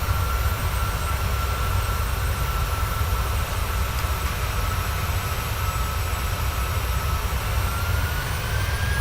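Boeing 737-800 jet engines in MSFS2020 spooled up to full thrust for a go-around, a loud, steady, broadband roar with a faint rising whine and no voices.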